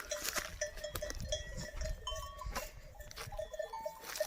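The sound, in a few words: flock of goats and sheep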